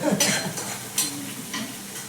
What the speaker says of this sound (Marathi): आता कांदा परतून घ्यायचा आपल्याला